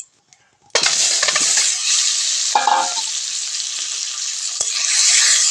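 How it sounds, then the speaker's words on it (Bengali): Eggs dropped into hot mustard oil in a wok burst into a loud, steady sizzle after a brief quiet start, with a few metallic clinks of a utensil against the pan. "ডিমগুলো ভালো করে ভেজে নেব।"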